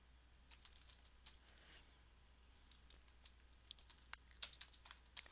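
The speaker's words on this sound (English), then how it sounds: "what I'm doing here is I'm just simply typing in those categories" Typing on a computer keyboard while entering category names into a website, heard as soft, irregular clicking keystrokes with short bursts and pauses, quiet and close, with no talking.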